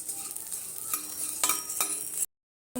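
Ragi laddoo pieces fry in a pan of oil with a soft, steady sizzle and a few sharp stirring clicks, faint and close, then a brief dropout of silence before the sizzle resumes.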